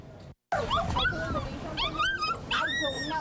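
Dogs at an animal shelter whimpering and yipping in short high-pitched bursts, close and fairly loud, with voices talking over them.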